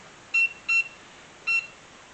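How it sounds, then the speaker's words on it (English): Three short electronic beeps from a kitchen timer as it is set for boiling eggs, two in quick succession and a third after a pause, clear against a quiet room. "I'm going to set my timer for 6 minutes"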